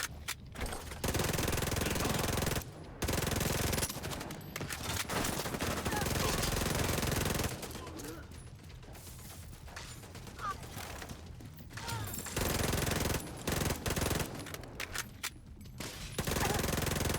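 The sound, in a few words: deployed turret firing in a video game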